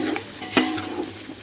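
Onions for biryani fry in a pan while a utensil stirs them, giving a brief scraping clink over a soft, close sizzle.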